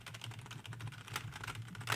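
Rapid, steady typing on a computer keyboard, dense clattering keystrokes at close range with no voices over them.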